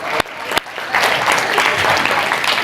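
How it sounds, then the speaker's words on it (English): A workshop audience breaks into applause for actors, a few sharp claps first and then a steady, full round of clapping. "let's give one more round of applause for our actors doing the incredible job today."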